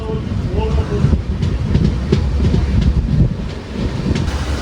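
Sabari Superfast express train running steadily between Karunagappally and Kollam Junction, with continuous rumbling wheel noise, rhythmic clickety-clack over rail joints and wind buffeting from inside the moving carriage.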